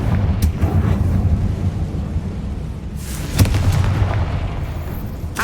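A Confringo fire spell in the Hogwarts Legacy video game bursts into a loud, rumbling blast, with deep booming low end and a sharper crackling burst midway through the continuous roar.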